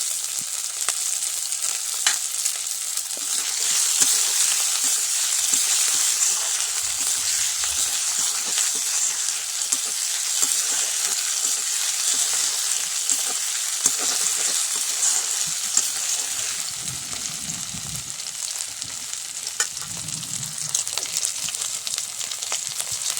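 Ginger, garlic and onion fry steadily in a pan with a continuous close hiss and sizzle, broken by occasional faint stirring, and no talking throughout.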